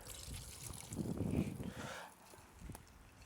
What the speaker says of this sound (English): Just a few splashes of cider.